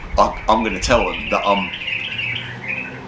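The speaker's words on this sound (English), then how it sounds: "sorry about the birds" Birds squawk loudly nearby in a series of harsh calls, with someone talking over them early on and chirping continuing afterward.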